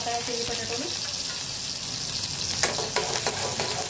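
Finely chopped garlic cloves fry gently in hot oil for chilli potatoes, a constant close sizzle crackling louder as a spoon scrapes and stirs the pan in the second half.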